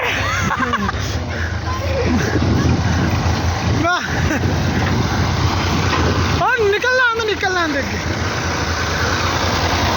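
A tractor engine rumbles steadily and loudly throughout, close by, while people talk over it, as the tractor hauling soil is stuck.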